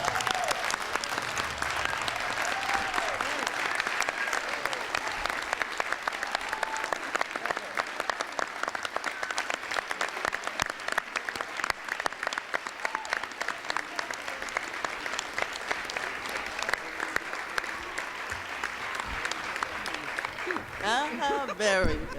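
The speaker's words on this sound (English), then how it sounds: "Another round of applause, please, for Mr. Shaquille Henry." A school board meeting audience claps for a student speaker, a long, sustained round of applause with steady crackling claps, occasional voices underneath and a brief speaking voice as it ends.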